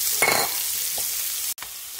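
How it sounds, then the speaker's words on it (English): Onion and green chili sauté in hot oil with mustard seeds, a steady close sizzle broken by a few brief stirring clatters and one short sharp pop, with no talking. "it's the onion and the green chili. Saute for a few minutes."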